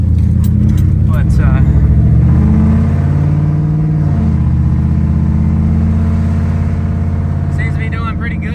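A Ford Mustang engine runs on its first drive after a rebuild, a loud, deep, steady rumble that rises slightly in pitch, with someone talking over it.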